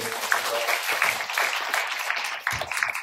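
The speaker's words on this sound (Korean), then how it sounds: "박수 한번 부탁드리겠습니다." Audience applause at a tech conference after a presentation, a lively burst of clapping lasting about three seconds with some voices mixed in.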